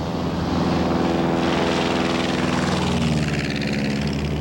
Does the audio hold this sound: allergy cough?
no